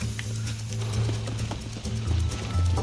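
Horse hooves galloping in the video game Red Dead Redemption, a steady rapid clatter of hoofbeats with mechanical clicks over a droning low game soundtrack.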